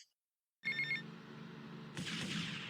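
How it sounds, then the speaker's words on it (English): A phone rings for an incoming call in the video game GTA Vice City, a bright electronic ring tone that starts abruptly after a short silence, followed by a louder, noisier sound layer. "we'll play you a phone call from Kent Paul"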